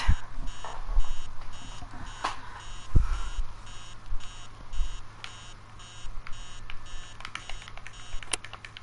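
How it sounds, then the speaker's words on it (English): A repeating electronic alarm clock beeps steadily in the horror video game Emily Wants to Play Too, a rhythmic bleeping pattern over low background hum with a few soft thumps, and no talking. "Dumb alarm."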